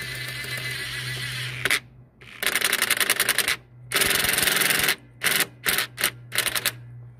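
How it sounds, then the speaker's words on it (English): An impact wrench set to speed mode 1 fires in several short, loud hammering bursts while tightening the top alternator bolt on a Ford F-350 Super Duty with a Triton V10 6.8L, over a steady low hum. "we're gonna do that with our impact wrench"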